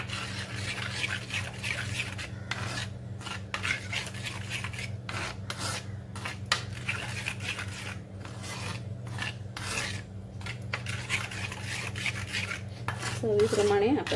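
Warm aamras (mango pulp) is stirred a little at a time into a whisked mixture, a steady rasping, scraping rub of a utensil against a bowl continuing over a low constant hum, with short pauses between strokes and a brief clink near the end.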